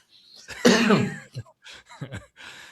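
One loud, harsh cough close to the microphone, followed by a few shorter, breathy coughing bursts and throat sounds.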